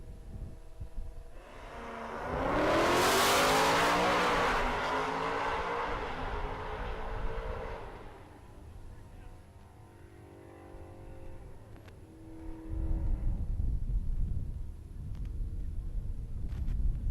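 A Mazda drag racing car roars down a dragstrip in Great Bend, Kansas, a loud surging engine sweep that rises and then fades into the distance, followed by lower rumbling from the strip.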